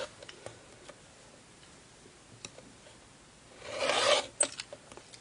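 Fabric is cut along a quilting ruler with a rotary cutter, heard as a soft close rasping drag lasting under a second, framed by sparse light ticks and clicks.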